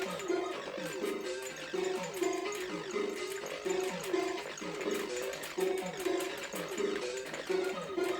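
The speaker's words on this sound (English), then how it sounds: "You can hear the Ghostbusters theme in the background." Chiptune rendition of the Ghostbusters theme playing from a ZX Spectrum video game, thin buzzy beeper tones in a repeating melodic pattern, fairly faint and steady throughout.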